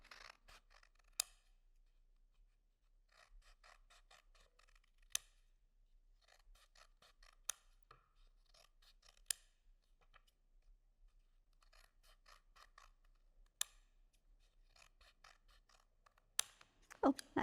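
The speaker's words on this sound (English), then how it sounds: "And what we're going to do now is just cut some random triangle shapes." Scissors snip random triangle shapes from sheets of paper for an abstract paper art project, cutting in quick clustered bursts of crisp close snips separated by short pauses.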